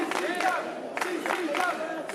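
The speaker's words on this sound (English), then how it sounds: "CCW chant there, well deserved." Independent wrestling crowd at a CCW event chanting in rhythmic unison, a loud, dense mass of voices rising and falling in repeated bursts.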